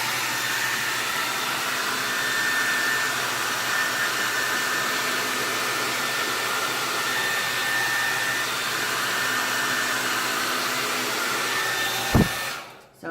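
A hair dryer on high heat blows a loud, constant airy whoosh close by for about twelve seconds, then clicks off.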